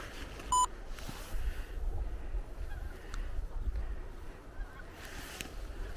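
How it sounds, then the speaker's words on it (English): Pink-footed geese honk as they pass overhead, the calls faint and distant over a steady outdoor rumble, with a brief sharp electronic beep near the start. "There are geese going overhead."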